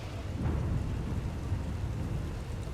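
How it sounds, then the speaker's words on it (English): A fierce thunderstorm in the video game Star Wars: The Old Republic: steady, dense rain with a low, rolling thunder rumble underneath, continuous and fairly close, with no voices. "a fierce storm coming our way"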